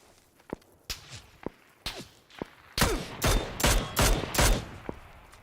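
Video game gunfire: sharp gunshot cracks, first spaced single shots, then a rapid run of louder, heavier blasts in quick succession, with no talking.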